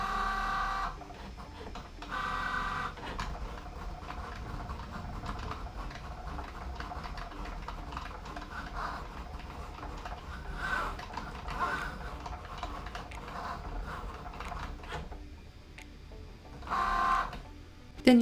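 A Cricut Joy cutting machine works through cardstock on a mat, giving a steady motorised whir broken by repeated ticking carriage movements and short buzzing bursts, with occasional faint speech.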